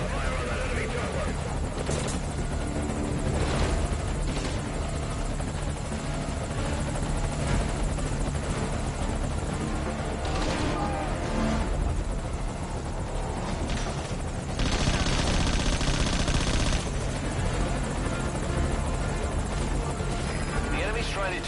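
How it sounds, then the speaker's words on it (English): A loud, continuous enemy helicopter drone dominates a Metal Gear Solid Ground Zeroes game battle, with sharp bursts of gunfire punctuating it and radio chatter voices over the top. "Focus all your fire on that enemy chopper."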